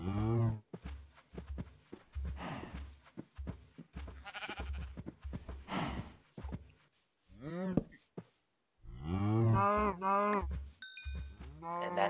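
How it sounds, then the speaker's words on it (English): Cattle lowing and bleating in Minecraft Feed The Beast as cows are killed, several short game-animal cries spread across the stretch, with a voice talking over and between them. "that sound when you kill the cows"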